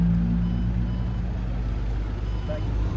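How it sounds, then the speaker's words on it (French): Ferrari 550 Maranello engine rumbling steadily and loudly nearby, a continuous low drone with a faint high tone above it, alongside other traffic. "c'est la Ferrari qui fait du bruit là"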